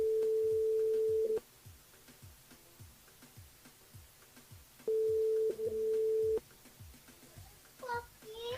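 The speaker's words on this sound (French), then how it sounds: "On appelle Sandra du côté de Saint-Louis." A telephone ringing tone on a live radio call-in broadcast, two steady buzzing rings separated by a pause, heard clearly over faint background music before a voice answers.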